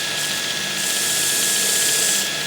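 A drill bit is sharpened, producing a steady, continuous grinding whir with a thin high whine that holds evenly throughout, close and fairly loud, with no voices.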